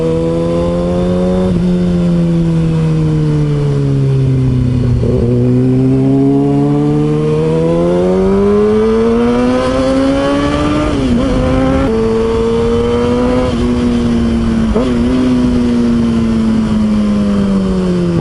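A Kawasaki ZX6R motorcycle revs up and down on a test ride, its engine pitch sweeping low then climbing in several smooth rises, loud and close with steady road and wind noise beneath, no talking.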